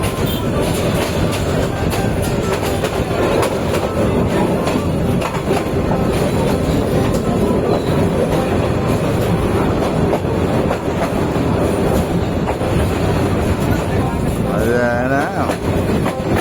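A train rumbles past close by while taking a curve, with continuous clattering wheel noise and a brief high squeal of wheels near the end.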